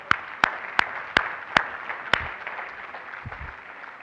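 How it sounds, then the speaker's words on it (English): A conference plenary audience gives a short burst of applause, with a few loud, spaced claps over a soft wash of clapping that quickly fades into room noise. "I think you could give yourselves a round of applause"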